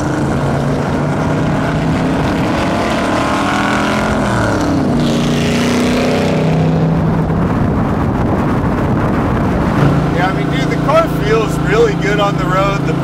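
A widebody C2 Corvette with a big block 427 V8 and straight pipes driving on the road, its deep exhaust droning steadily and rising and falling with throttle under wind noise and talk from inside the car.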